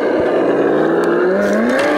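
Vaterra Ascender 4x4 RC truck with a Chevy Blazer body crawling a backyard trail course at low throttle; a close, steady electric motor whine gradually rises in pitch, alone and continuous.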